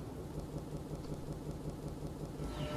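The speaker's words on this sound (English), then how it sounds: "it seems like the storms hit a little early, New York. Rain, thunder, lightning, the works." Rain pours steadily in a thunderstorm from the adventure game The Charnel House Trilogy, a soft continuous hiss with a low rumbling undertone of thunder, quiet and unbroken, with no voices.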